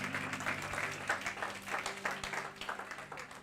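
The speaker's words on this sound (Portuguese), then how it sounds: "Aplaude o Senhor, mais forte," Congregation applauding inside a church during a Portuguese-language sermon, a steady wash of clapping at moderate distance with rhythmic pulses, over a sustained low organ or keyboard drone.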